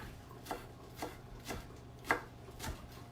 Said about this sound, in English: the Roma tomatoes, I'm just going to dice up